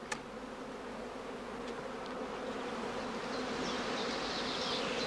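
A honeybee swarm buzzes around a straw skep, a dense, steady hum of many bees close by that continues evenly and grows slightly louder toward the end.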